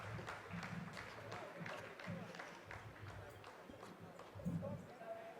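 Scientists at mission control applaud after the lunar descent phase of the Chandrayaan-3 landing completes, a steady roomful of clapping with scattered cheers running under continuous commentary.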